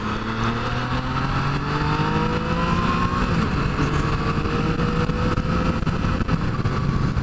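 A Yamaha FZ-09 motorcycle fitted with a Hayabusa rear shock accelerates while riding, its engine note climbing steadily in pitch, loud and close over constant wind rush.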